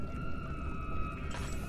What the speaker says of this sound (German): Wasser.